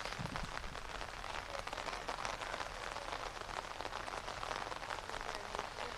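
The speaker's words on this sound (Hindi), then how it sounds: "पिछले काफ़ी समय से यहाँ पर बारिशें जो है हो रही हैं" Heavy rain pouring down steadily in Chandigarh and Mohali, a dense continuous hiss of drops striking surfaces, even and loud throughout with no voices.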